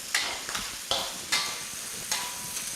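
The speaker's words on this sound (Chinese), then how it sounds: "豆瓣下到中间窝里头去，下锅以后给它炒散，颜色就出来了" Chili bean paste stir-fried in a hot wok with pork for Sichuan twice-cooked pork: a steady close sizzle broken by four or five sharp spatula scrapes at an uneven rhythm, with no talking.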